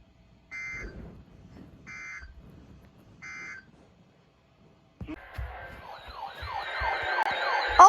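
Weather radios sound emergency alert system tones: three short, sharp data-burst beeps separated by pauses, then several overlapping warbling, sweeping alarm tones that grow steadily louder together.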